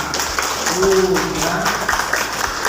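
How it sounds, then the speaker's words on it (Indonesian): A class of students claps for a classmate named Mila in a school lesson, a steady patter of applause lasting the whole moment with a voice talking over it. "Berikan tepuk tangan untuk Mila."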